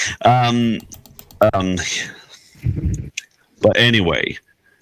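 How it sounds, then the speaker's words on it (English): Rapid computer keyboard typing clicks sit faintly in the background of a tabletop Dungeons & Dragons session, heard in short bursts under close, loud conversation. "clicking in the background"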